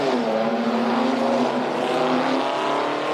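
GT4 race cars, a red Lotus among them, roar past on the Shanghai circuit in China GT Championship racing, a loud continuous engine drone with a shifting pitch and no talk over it.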